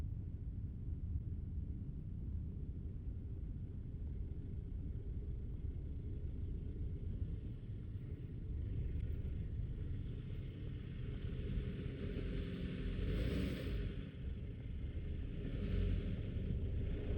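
A Subaru BRZ pulls away from a quiet campsite along a dirt road, its steady low engine rumble and tire noise continuous and close throughout, with a slight rise in intensity near the end.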